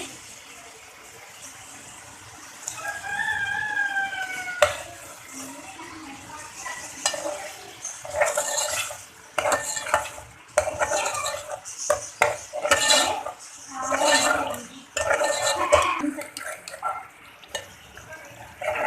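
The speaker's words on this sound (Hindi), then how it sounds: "अब हम इसमें दही शामिल कर देंगे।" Yogurt masala stirred and fried in a metal pan, with a clanking spoon against the pan, a wet splash and pouring sound, then a run of rapid scraping strokes over a light sizzle, close and fairly loud.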